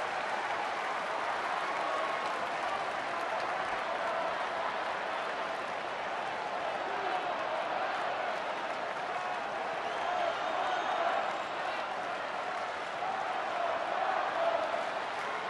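Crowd at a Cubs baseball game at Wrigley Field in the ninth inning, a continuous murmuring buzz with faint scattered clapping, steady and moderately distant throughout.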